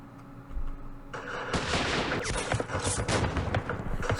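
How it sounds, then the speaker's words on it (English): Explosions and gunfire from air strikes in the war game Campaign Series Middle East, set at Port Said, start low, then burst into dense, loud booms and crackling shots that continue steadily with no talking. "We called in some airstrikes on known positions."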